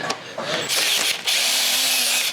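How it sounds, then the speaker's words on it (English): Power drill loosening the caps of RO filter housings: loud, close whirring bursts with brief stops and a rising motor whine, over a couple of seconds. "A drill is super helpful."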